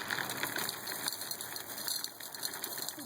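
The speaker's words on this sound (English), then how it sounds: "And you pour some gravel into the container." Gravel poured into a glass container for forcing paperwhite narcissus bulbs, a continuous rattling clatter of small stones tumbling and crunching together for a few seconds, heard close and alone.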